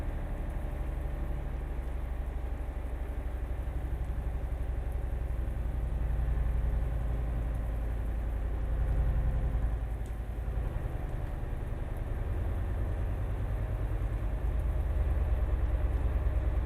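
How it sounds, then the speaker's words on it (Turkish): A Mercedes Travego bus engine in Euro Truck Simulator 2 drones low and steady, rising and falling slightly with revs on a rainy road, faint and continuous with no voices. "O boğurtu, bastonlu otobüsün sesi geliyor."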